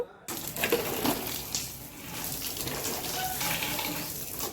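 Children play with plain water at home after Holi, splashing steadily and noisily for several seconds with irregular bursts, close by and without speech.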